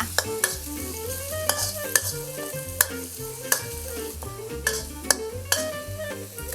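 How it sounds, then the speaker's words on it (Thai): Garlic stir-fried in hot oil in a pan, with a steady sizzle and regular scraping strokes of the spatula, heard close under melodic background music. "ในขั้นตอนนี้นะคะเราจะผัดกระเทียมให้หอมก่อนนะคะ"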